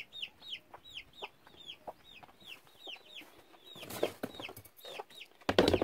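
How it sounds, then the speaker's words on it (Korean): Several backyard chickens cluck and chirp in quick repeated calls at close range, with some rustling and a louder bump near the end, no voices. "사랑스러운 우리 닭들"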